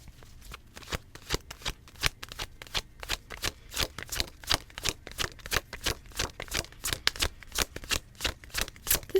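A deck of tarot cards being riffled and shuffled by hand, a quick regular series of crisp flapping bursts repeating close up, with no talk.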